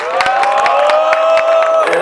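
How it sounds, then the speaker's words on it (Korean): A crowd at an outdoor candlelight rally in Suwon cheers and applauds to welcome a speaker, loud and close, with a sustained tonal hum running underneath the steady clapping. "큰 박수로 모시도록 하겠습니다."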